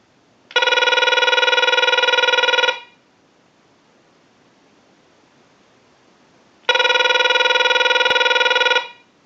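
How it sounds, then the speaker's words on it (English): A telephone bell on a test ring cycle from a Harris TS22 lineman butt set rings in two long bursts about two seconds each, separated by several seconds of near silence; loud and close, no talking. "send a ring cycle like you were getting a call"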